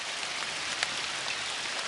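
Heavy rain pours steadily during a 4.5-inch downpour, a dense, even hiss of drops striking the ground with no gaps or voices.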